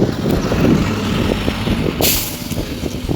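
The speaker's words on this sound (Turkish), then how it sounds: "siz bakmayın böyle otobüslere. Çok ses çıkartıyor" A heavy bus engine rumbles close by, ending with a sharp hissing burst of air brakes, with no talking.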